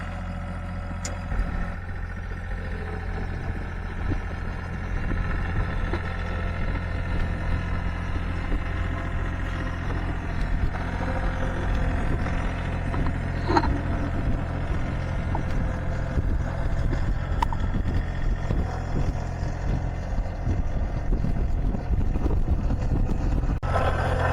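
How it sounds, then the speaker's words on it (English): A low, steady engine drone runs throughout, the constant rumble of a tractor motor with wind noise over it and no pauses. "she wanted some tractor time with her daddy, so she's hitching a ride"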